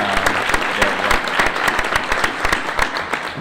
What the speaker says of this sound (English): All right, another big round of applause for those students for sharing their work.